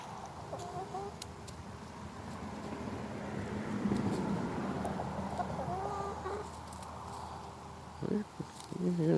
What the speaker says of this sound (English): Chickens won't leave me alone, so give them a treat to get them off of me.